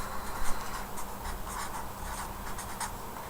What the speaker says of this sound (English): So I'm going to write first row.